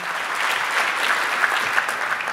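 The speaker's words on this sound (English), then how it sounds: "Would you please give our guests a round of applause?" An audience at a water summit applauds panel guests with a brief burst of dense clapping from a crowd, steady in volume throughout.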